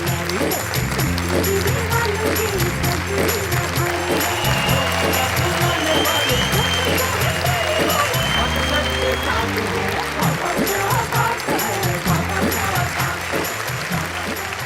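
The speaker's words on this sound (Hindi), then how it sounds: "जोरदार तालियां संगीता सरल" Sustained audience applause honoring the poet Sangeeta Saral at a Hindi poetry recital, dense clapping steady and loud throughout, with voices mixed in.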